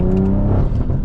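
A loud BMW M340i engine and exhaust rumble at close range, a dense deep drone with a brief rising note and rough, crackling texture through the short burst.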